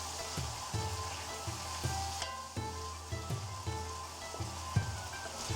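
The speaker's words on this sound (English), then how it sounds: "Add a little oil into a pan and add the green curry paste, and we'll be frying this down" Green curry paste sizzling and frying in hot oil, with periodic scraping and stirring in the pan, close and steady throughout.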